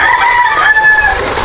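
A gamecock rooster crows once, loud and close, in a flooded farmyard where fighting cocks and breeding fowl stand in high water; the single sustained call fills the short moment with no talk.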